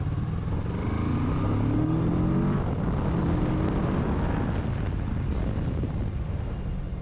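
A motorcycle weaves through a slalom at a licence practice course, its engine a steady loud rumble that rises and falls slightly with throttle, close and continuous with no talking.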